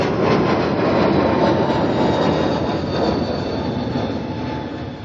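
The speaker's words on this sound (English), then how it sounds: "A321 Neo departure heading off to Sydney." Airbus A321neo jet departing Auckland Airport, a loud, steady broadband engine roar with a high whine, close and dominant, fading slightly toward the end.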